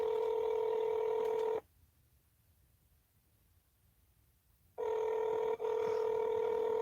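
Steady electronic phone tones play while calling someone back, then cut out for about three seconds and resume, clear and alone, with no talking.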